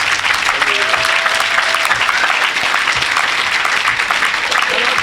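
A church congregation applauds and acclaims the Lord during a service, with dense, sustained clapping throughout and voices cheering underneath.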